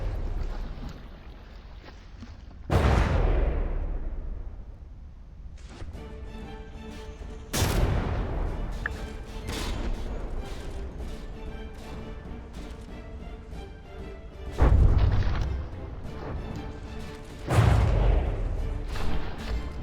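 Naval gunfire and shell impacts from the From the Depths game: heavy booming shots burst out several times over a rumbling background, each trailing off before the next, loud and close.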